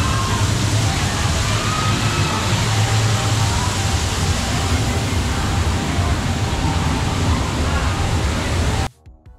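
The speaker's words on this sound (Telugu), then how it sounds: "water fall" Water pours in a steady, loud broadband rush from an artificial waterfall at a mermaid-themed exhibition in Kukatpally, Hyderabad, constant and close for most of the stretch before cutting off abruptly near the end.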